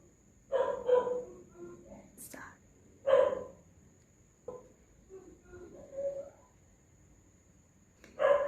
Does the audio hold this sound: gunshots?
no